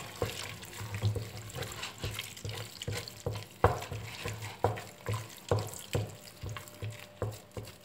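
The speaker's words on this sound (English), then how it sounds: "you start adding the water to the condensed milk, and keep working it" Water being stirred and worked into a very thick condensed milk paste for a Greek moussaka béchamel, heard as a steady wet churning with rhythmic scraping and sloshing strokes, close and continuous with no talk.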